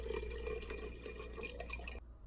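Tap water runs steadily into a container, a fairly loud continuous splashing rush to cover seeds for soaking, cutting off abruptly near the end.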